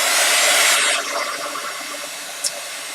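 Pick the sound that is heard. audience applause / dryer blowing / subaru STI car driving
dryer blowing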